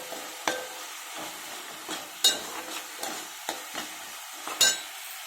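Paste of one medium onion fries in a pan for Telugu fish pulusu, a soft steady sizzle broken by several light scraping stirs and taps, close and fairly quiet, with no talk.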